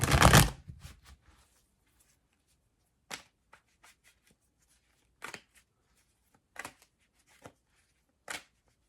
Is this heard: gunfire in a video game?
no